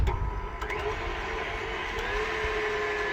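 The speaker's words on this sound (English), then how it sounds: "So we're going to whisk those to soft peaks." An electric mixer whisking three large egg whites toward soft peaks, a loud, steady whirring motor drone running without a break, close by, no one talking.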